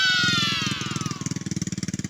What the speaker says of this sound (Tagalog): Rinig nyo, grass cutter na, ginagamit na pang haras